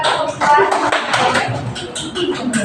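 Students in a classroom clap for group 2 after its presentation, a brisk burst of close applause with voices mixed into the clatter of hands.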